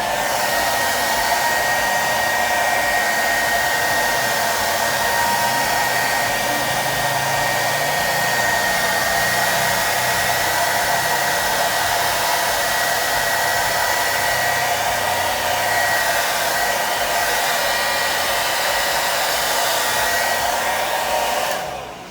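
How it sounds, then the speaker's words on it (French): Hair dryer on its cold setting blowing to dry wig glue on a lace frontal, a loud steady close whoosh that runs unbroken for about twenty seconds before tapering off at the end, with no talking. "Ensuite, nous allons sécher à froid."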